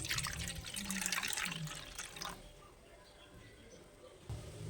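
Lukewarm water poured into a bowl to make bun dough, a close splashing stream that fades into quieter room tone after a couple of seconds.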